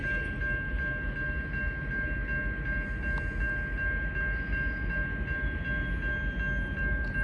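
A steady rumble of two freight trains passing, a local and a through freight, fills the whole stretch, with a constant tonal whine and faint rail clatter, fairly loud and continuous.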